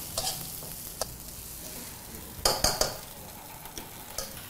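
Cashews and raisins fry in ghee for potato halwa. A soft, steady sizzle runs throughout, broken by several sharp scraping clinks of a spoon stirring against the pan, with no talking.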